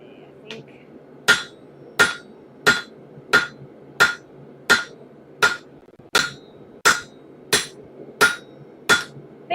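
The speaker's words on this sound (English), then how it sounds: "one more heat hammering that smooth" Hammer forging a hot steel axe head on an anvil, about twelve sharp ringing blows at a steady rhythm of roughly one per 0.7 seconds, close and loud with no talking.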